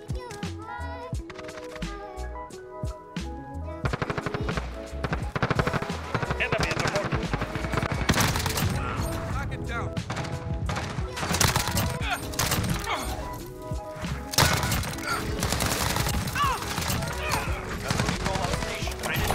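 Automatic fire from an Uzi submachine gun in the Modern Warfare video game comes in dense, loud bursts over game music and effects, with rapid shots packed across most of the stretch.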